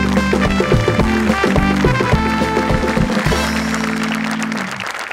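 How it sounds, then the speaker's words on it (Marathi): A studio audience at a televised Marathi comedy show claps for the art team. The applause rises under loud, sustained stage music and becomes a dense wash of clapping as the music fades. "मला वाटतं एकदा आपल्या आर्ट टीमसाठी जोरदार टाळ्या झाल्याच पाहिजे"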